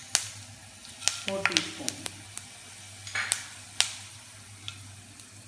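Four teaspoons of whole coriander seeds drop into a pan of hot oil for a spice box curry. A quick scatter of light clicks and patter rises over a soft sizzle, and a voice speaks briefly.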